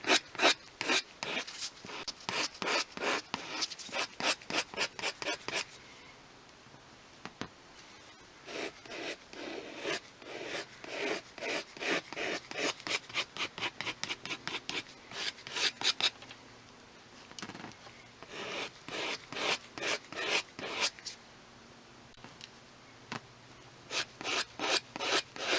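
Hand sanding of a Toyota Gen 7 Celica leather seat, rapid rhythmic scratchy rasping strokes in bursts with short pauses, close and fairly quiet, no voices.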